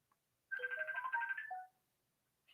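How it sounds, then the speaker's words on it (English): Phone ringtone for an incoming call: a single clear melodic ring of a few rising and falling tones, about a second long, alone in quiet surroundings, with a faint blip before it and a brief chirp at the end. "calling on the phone"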